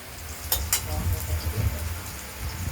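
Potatoes frying in hot oil for a paneer curry with tomato, giving a steady close sizzle with a few sharp crackles and spatters throughout.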